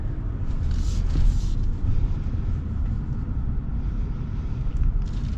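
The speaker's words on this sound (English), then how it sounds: "let's set off in the new Rebel with the Hurricane." A 2025 Ram 1500 Rebel with the Hurricane engine pulls away, a steady low rumbling drone with some wind and road noise throughout, moderately loud and without any speech.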